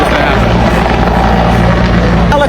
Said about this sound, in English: Helicopters roaming